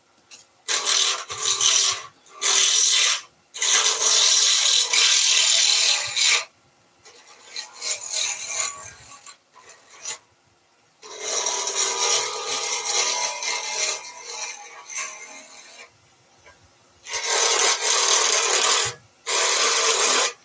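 A blunt chisel scrapes against a spinning resin and polyester pen blank on a lathe, in loud rasping bursts of a second or several seconds separated by short quiet gaps.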